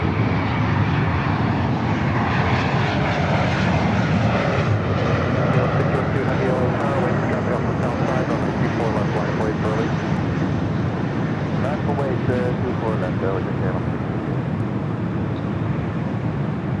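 SkyWest CRJ regional jet arriving at LAX, a loud continuous roar of jet engines that holds steady throughout and drowns out all other sound.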